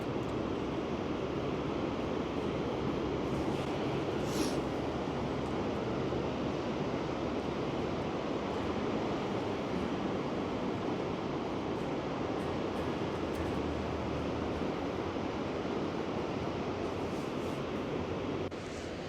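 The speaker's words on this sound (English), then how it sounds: "Some beautiful waves coming in down there." Ocean waves break on the shore below a lighthouse, a continuous loud wash of surf with wind buffeting the microphone and no voices.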